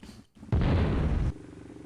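A single explosion bursts out of a brief hush in the holiday video game All Aboard for Santa, a loud, rumbling boom lasting under a second before dropping back to a low background hum.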